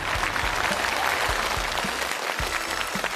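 A television studio audience at a Chinese variety show claps continuously and fairly loudly to welcome two actresses on stage, with dense, even applause and a faint crowd murmur and no clear speech.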